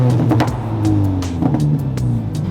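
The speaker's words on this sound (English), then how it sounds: "I'm gonna rev in here real quick and just listen to this thing." A car with no mufflers revs its engine indoors. Raw, throaty exhaust notes rise and fall in short pulses over a constant low rumble, loud and close.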